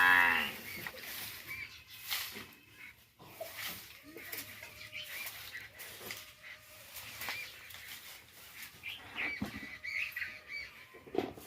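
Cattle low at a Gujarati village farm: faint, drawn-out moos come now and then, with crows cawing and other quiet farmyard noise in the background.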